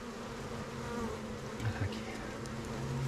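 Hornet hovering around a beehive, with a dense steady drone of many bees buzzing close by and the hornet's lower hum weaving through it, brief soft knocks now and then, no talking.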